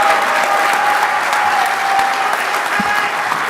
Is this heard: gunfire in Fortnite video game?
no